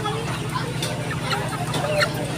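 Sonali chickens cluck and chatter at a poultry wholesale market in Tangail's Park Bazar, with scattered bird calls over steady crowd noise and nearby voices.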